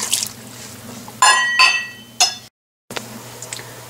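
A cup of water poured into a pressure cooker holding spice-coated meat with garlic and ginger paste, a few short splashy gushes and clinks over about a second, then a brief silence and faint drips.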